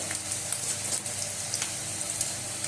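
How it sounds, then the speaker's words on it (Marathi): Green chillies sizzle steadily in hot oil for vada pav, a continuous close frying crackle with small pops throughout. "आता त्यात मी मिरच्या टाकते मिरच्या बी आपल्या फ्राय होतील तळून निघतील"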